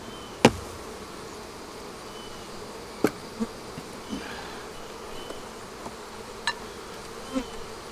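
Honey bees hum and buzz around beehive boxes holding brood, a steady close drone with a few soft knocks and clicks of handling over the top.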